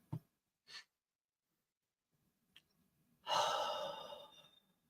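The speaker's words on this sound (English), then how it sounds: "And take one more breath with me." During a guided meditation, a person takes a slow, deep breath: a couple of soft intakes, then one long, audible exhale that slowly fades in a quiet room.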